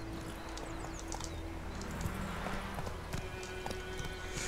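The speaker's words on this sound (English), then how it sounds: "Very well-trained horse, Roach." Steady clip-clop of Roach's hooves in The Witcher 3, a regular trotting rhythm running through the whole stretch over a dense bed of ambient game sound, fairly close and moderately loud.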